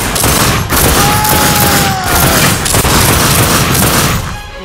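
Heavy automatic gunfire from The Darkness II video game, loud and continuous volleys with short dips, fading near the end.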